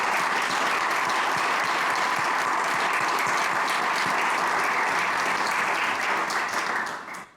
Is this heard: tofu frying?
no